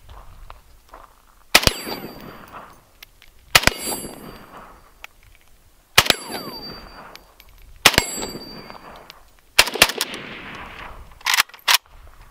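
An unsuppressed 7.62x39 rifle fires at steel targets: about five sharp, loud single shots spaced a couple of seconds apart, each followed by a ringing metallic clang and outdoor echo, with a quick double shot at the end.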